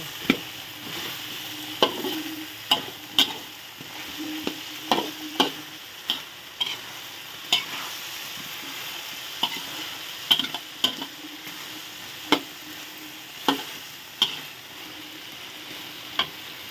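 Crispy fried catfish and eggplant stir-fry in a hot pan under a constant sizzle, broken by repeated sharp scrapes and clanks of the spatula at an uneven rhythm, close up, with no voices.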